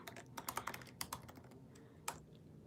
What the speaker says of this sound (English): I'm going to type in my email one more time.